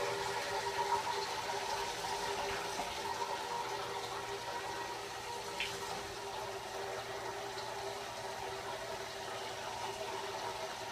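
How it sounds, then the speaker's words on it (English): Water pours steadily into a container, a soft continuous splashing rush that stays fairly quiet and even throughout, with no voices. "I've added another 8 ounces of water now"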